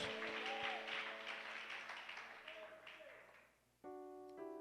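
A church congregation claps hands as an offering, a dense burst of applause that fades over a few seconds into organ-like tones.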